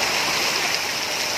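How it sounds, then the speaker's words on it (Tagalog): Floodwater flows at Butuan Airport during Typhoon Tino, a loud, steady rushing wash of water, close and continuous over the brief span, with no voices. "Nagbaha na dito sa Butuan Airport, pero wala man makancel ang flight."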